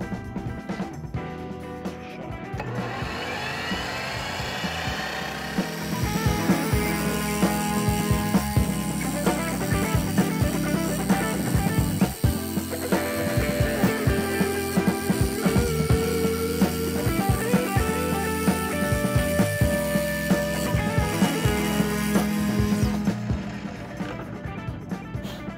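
A mitre saw converted into a cold cut saw and slowed to about 2100 RPM cuts through metal with a loud, steady grinding whine. The motor spins up first, and the tone wavers under load through a long continuous cut.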